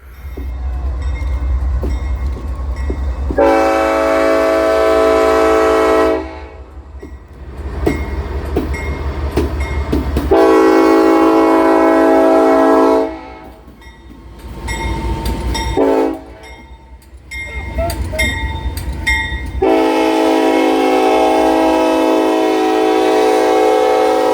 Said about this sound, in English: the empty trash train 12T is pulled up on the passenger main